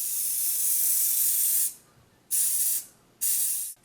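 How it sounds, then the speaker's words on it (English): A spray paint can hisses onto a jar in three bursts, one long sweeping spray followed by two shorter ones with brief pauses between, close and steady with no talking. "And then to spray paint it, you want to stay about 10 to 12 inches away from the item that you're spraying"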